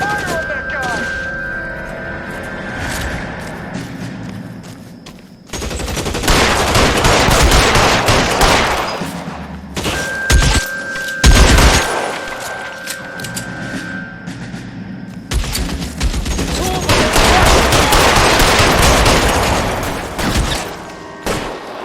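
Heavy gunfire from a shootout in LA Noire: loud, dense bursts of machine-gun and rifle shots crackle in waves, broken by short lulls and sharp booms, with voices shouting over the fight.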